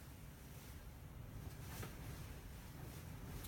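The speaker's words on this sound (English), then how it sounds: "Pretty windy outside, if you can hear that." Wind blowing outside produces a steady, broad roaring rush that fills the whole clip with a constant, fairly even level.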